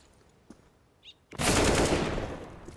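Gunfire in the video game CS:GO during a professional Fnatic vs MIBR match: a few faint clicks, then a sudden loud burst of rapid automatic rifle fire that sustains for over a second before tapering off.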